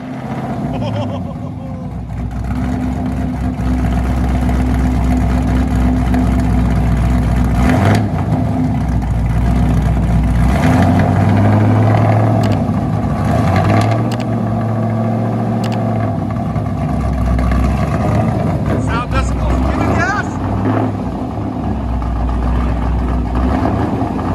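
A Chevy Camaro SS with a 6.2L V8 and true dual straight-pipe exhaust roars loud and near, building from idle into sustained revving with a heavy, throaty drone.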